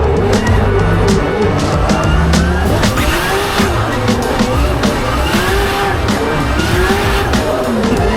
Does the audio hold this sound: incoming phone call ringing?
no